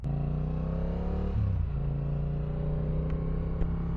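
A Yamaha R7 motorcycle ridden in cold weather gives a steady, close engine drone with a strong even hum, briefly dipping and shifting pitch partway before settling back to the same cruising tone.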